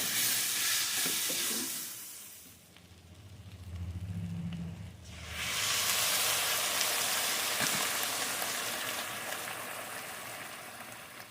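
Steady frying sizzle with soft scraping of a spoon stirring flour in a pot for Jamaican-style oxtails, a brief quieter lull midway before the crackling hiss returns, no voices.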